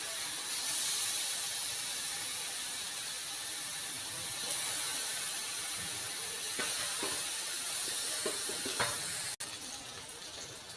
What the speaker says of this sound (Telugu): సిమ్లో పెట్టి వేయించుకోవాలి.